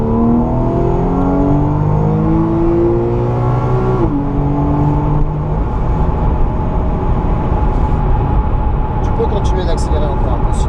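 A car accelerates around a driving course at Le Mans, its engine note rising in steady harmonic sweeps, easing briefly, then climbing again, loud and continuous with someone talking over it.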